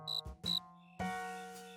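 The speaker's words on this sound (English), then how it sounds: "You know, George, if we don't catch that cricket, we'll never get any sleep" A cartoon cricket chirps in short, shrill, tonal bursts, two quick chirps followed by a longer sustained trill, faint and isolated with no speech.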